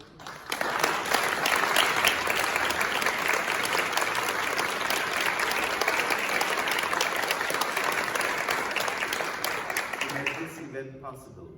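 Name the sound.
audience applause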